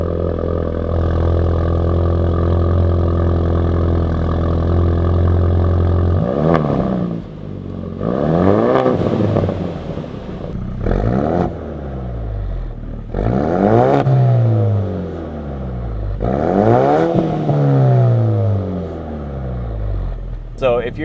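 A 2019-2023 Ford Ranger with the turbocharged 2.3-liter four-cylinder EcoBoost and an AWE cat-back exhaust idles steadily, then revs hard in repeated loud bursts that rise and fall back to idle, with no talk over it.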